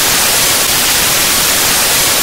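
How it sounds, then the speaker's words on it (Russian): Harsh, continuous static hiss, like screen interference in a Deltarune-style video game, fills the whole stretch loud and unbroken, with no voices. "По экрану начали идти помехи. Звук на фоне был ужасный и жестко резал уши."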